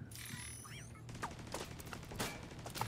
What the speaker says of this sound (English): Someone's shooting already.